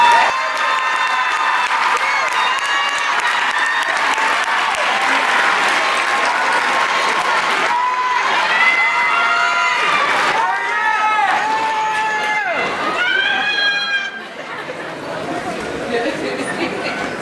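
A large crowd at a high school commencement ceremony applauds and cheers graduating students, sustained clapping with rising shouts and whoops from many voices, some chatter, and the cheering thinning out near the end.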